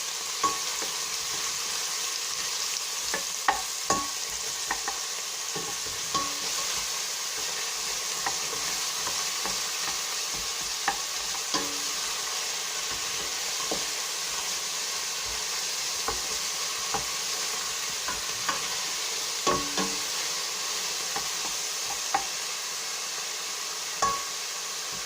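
Onions saute in a pan for vegetable soup, a quiet, even sizzle with scattered light clicks and taps of a utensil against the pan throughout.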